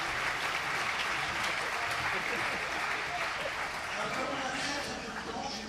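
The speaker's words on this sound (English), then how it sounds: "So give him a round of applause." Audience applause in a university amphitheatre welcoming the minister of economy, a dense, steady clapping from a large crowd that fills the whole stretch and fades slightly at the end.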